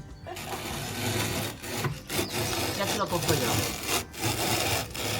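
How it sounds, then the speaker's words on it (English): A large traditional hand-turned grinder used for making arepas and tamales, grinding with a steady rough scraping, rubbing rasp that pauses briefly a few times, close and fairly loud, with a brief voice at one point. "Wow, this is the biggest grinder I've ever used."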